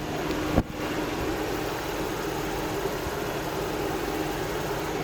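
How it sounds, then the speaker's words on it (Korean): A V8 car engine idles steadily with a low, smooth, very quiet hum, constant and even throughout, with one brief click near the start. "일단 엔진 소음 한번 들려드릴게요"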